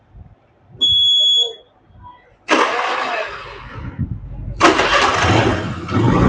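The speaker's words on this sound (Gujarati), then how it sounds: "એ એક્ટિવા ચાલુ થઈ ગઈ છે" A Honda Activa scooter after engine repair: a brief high electronic beep, then two loud bursts of the engine cranking and catching, the second running on steadily, close up in a workshop.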